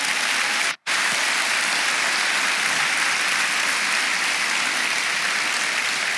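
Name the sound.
church congregation applauding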